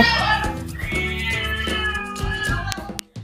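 Several cats meow indoors in a home, giving a run of drawn-out, wavering cries close by with no talking.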